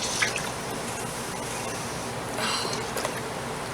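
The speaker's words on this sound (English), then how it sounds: "Give that a stir." Bread and butter pickle mixture of vinegar and water being stirred in a pot with a spoon, making steady soft liquid sloshing and dripping with a couple of brief louder swishes, close and continuous.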